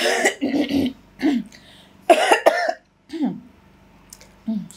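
A woman coughs and clears her throat several times in short, irregular bursts, close by, with brief pauses between fits.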